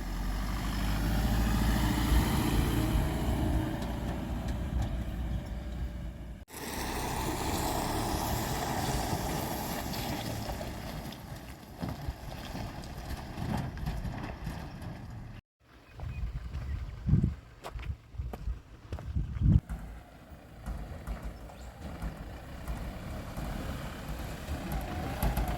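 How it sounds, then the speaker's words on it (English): 4x4 vehicle driving along a dry riverbed in the Owen Springs Reserve, outback Australia, with a steady engine drone, rumbling bumps and scattered knocks from the rough track, loud and close throughout. "So we're driving the riverbed right now"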